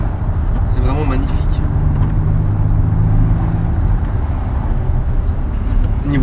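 A BMW M5 with a V10 engine runs at a steady, loud low rumble close by, droning on without a break while people talk over it.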